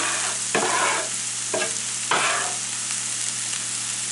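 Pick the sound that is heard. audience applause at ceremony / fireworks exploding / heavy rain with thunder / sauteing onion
sauteing onion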